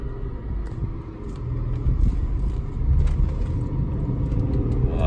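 A 2002 BMW E46 M3 pulls out of a facility onto a road in Chicago, with a steady low engine and road rumble that swells slightly as it gets moving, close and continuous.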